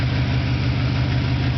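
The 305 V8 of a 1986 Chevy C20 square-body pickup runs at a steady idle, a close, even low rumble with no voices.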